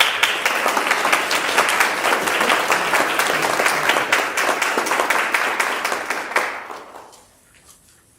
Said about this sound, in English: I still think a round of applause will be very